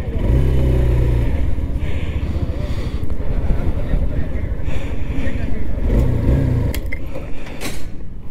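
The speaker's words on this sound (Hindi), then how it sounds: "फायरिंग इसका सुनिए, फायरिंग वगैरह साउंड इसका काफी अच्छा है" A Hero Xtreme 160R motorcycle engine runs close by with a low, throbbing firing rumble that rises in short bursts near the start and again later, heard under someone talking.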